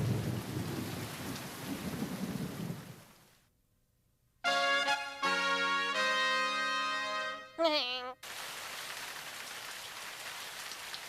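Steady rain with rumbling thunder fills a Tagalog-dubbed cartoon scene, loud and broadband, then drops to near silence before a burst of bright harmonic music and the rain resumes.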